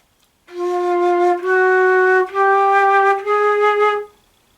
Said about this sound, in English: So this is the way it should sound.